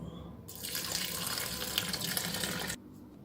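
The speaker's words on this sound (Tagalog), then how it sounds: "At lalagyan ko siya ng tubig." Water from a kitchen tap runs steadily into a cooking pot holding rice and vegetables, starting abruptly, pouring for a couple of seconds at moderate volume, then cutting off into near-silence.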